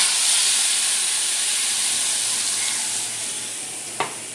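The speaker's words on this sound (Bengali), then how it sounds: "মশলাটা দিয়ে ভালো করে কষাও।" Spice paste frying in a hot pan during home cooking, a steady bright sizzle and hiss that fades slowly, with one short clink near the end and no talk.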